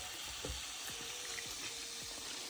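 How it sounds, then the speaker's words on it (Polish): Liquid squeezed by hand out of salted zucchini, dripping and splashing in a few quick, close trickles over a steady soft hiss. "Cukinię wyciskamy i wkładamy na patelnię."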